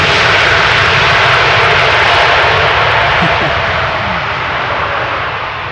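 A landing airliner at Schiphol Airport deploys its thrust reversers, a loud, broad engine roar that stays powerful before slowly easing off toward the end.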